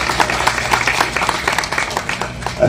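A hall audience claps at a Tamil film songs and trailer launch for Suriyanum Suriyagandhiyum, bursts of individual hand claps forming loose, uneven applause that rises and dips over a few seconds.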